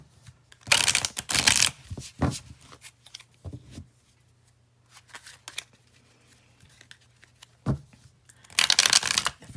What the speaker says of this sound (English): Man, the cards don't want to shuffle.